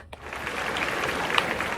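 A short burst of clapping applause, steady and fairly faint, lasting under two seconds without talk.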